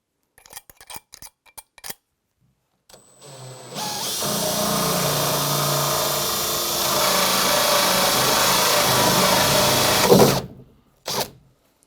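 Power drill with a hole-cutting bit boring a tap hole through an acrylic bath, grinding steadily for about seven seconds at close range, preceded and followed by brief knocks and handling clatter.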